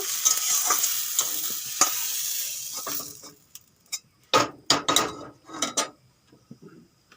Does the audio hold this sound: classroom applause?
no